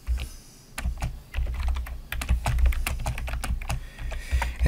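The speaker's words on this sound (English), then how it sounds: "inside quotation marks, I'm just going to type some text." Text being typed on a computer keyboard, a close, steady stream of rapid key clicks in uneven bursts with a few brief pauses, with no talking.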